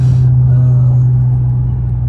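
A loud, steady engine drone with a sustained whine holds throughout, close and constant.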